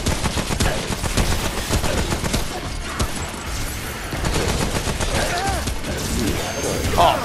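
Heavy gunfire from the co-op shooter game Remnant from the Ashes, with continuous rapid shots, crashes and bursts filling the whole stretch. Players talk over the fighting.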